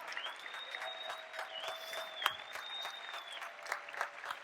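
Audience at a large business meeting applauding and cheering for a group standing to be recognized, steady dense clapping with a few louder whoops and a faint tonal whistle running across the crowd noise.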